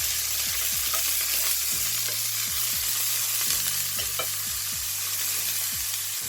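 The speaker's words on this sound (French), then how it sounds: "dans la poêle. Je les fais griller pendant 5 minutes." Peas frying in a pan give a continuous loud sizzle, with repeated scraping stirs of a utensil against the pan at a steady pace.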